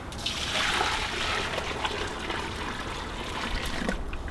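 Boiling water poured from a pasta pot onto a frozen winter pond makes a steady, close trickling and splashing stream that runs without a break.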